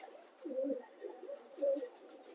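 A pigeon coos softly twice, low rolling calls with a short pause between them, fairly quiet against a still background.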